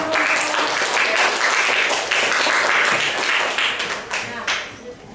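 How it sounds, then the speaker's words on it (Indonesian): A classroom full of students claps together in dense, steady applause that stays loud before thinning out and fading over the last second or two. "Oke, tepuk tangan dulu."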